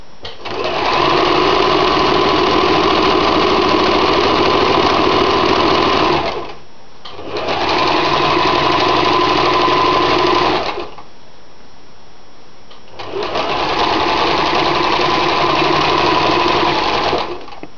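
A sewing machine runs in three long, steady bursts while stitching along a towel seam, a loud fast mechanical whir with short pauses between runs.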